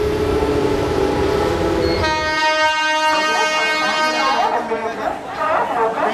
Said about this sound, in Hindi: प्लेटफॉर्म क्रमांक 1 किनाऱ्यापासून एक जलद गाडी जाणार आहे.